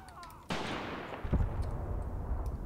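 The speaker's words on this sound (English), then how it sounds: "They're sniping them one by one." Sniper rifle fire in the tank-battle wargame Graviteam Tactics: Mius Front: a sharp report at the start of a burst, then a second crack and a rolling boom that fades into steady rumble.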